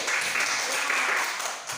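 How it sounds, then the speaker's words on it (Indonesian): A burst of applause from a classroom group, dense rapid clapping at close range that holds steady and tapers slightly at the end. "Tepuk tangan dulu."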